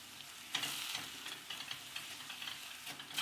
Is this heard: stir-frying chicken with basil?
yes